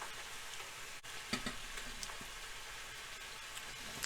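Flat pieces of meat sizzle on a George Foreman grill: a steady, close frying hiss with a few sharp crackles and pops, and no voices.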